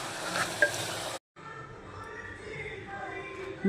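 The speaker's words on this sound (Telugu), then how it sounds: "ధనియాల పౌడర్, సరిపడా కారము వేసుకొని చక్కగా కలియతిప్పాలి." Coriander powder and chili powder being stirred into mutton cooking in oil for a masala curry, a soft scraping sizzle broken by a short gap, with a brief louder clatter at the end.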